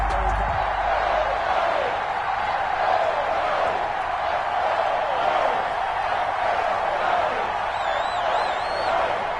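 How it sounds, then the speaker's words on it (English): Steady stadium crowd roar in an EA Sports NFL game before a Miami Dolphins versus New York Giants matchup, a continuous dense cheering wash with faint whistles near the end. "This crowd is ready as their guys get set to match up between the Miami Dolphins"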